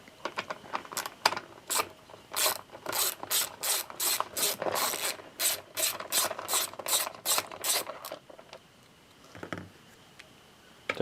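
A hand ratchet clicks in quick bursts while loosening bolts and 10mm nuts on the gearbox-to-carburetor studs of a Honda GXV140 small engine, the close, crisp pawl clicks running in steady strokes before a pause and a last few clicks.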